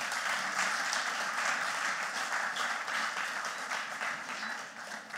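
An audience applauding after a lecture at a museum lecture series, steady dense clapping from a seated crowd that holds strong and tapers slightly toward the end.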